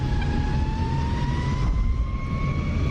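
Steady jet engine roar of an F-35C in the DCS flight simulator game, a loud continuous whine with rising tonal pitch over broadband rumble, close and unbroken.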